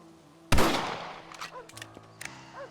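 A single sharp rifle shot cracks loudly in Red Dead Redemption, followed by a decaying tail and a few faint ambient clicks and chirps afterward.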